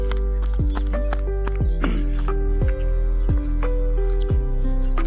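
Horse hooves clop in a steady walking rhythm, about one strike per second, with a low constant rumble underneath and no voices.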